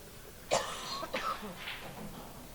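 Several sharp coughs in a short burst, close and moderately loud, followed by softer throat noises, during a nine-ball pool match.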